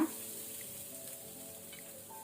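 Grated coconut with turmeric fries gently in coconut oil over a low flame, a faint, steady soft sizzle heard close up and alone.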